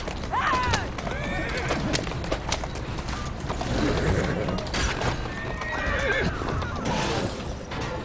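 Horses whinny and neigh with clip-clop hooves from a horse-drawn carriage, apparently pulled by a single horse, in the video game Assassin's Creed Syndicate, set amid a busy game street soundscape with mechanical noises throughout.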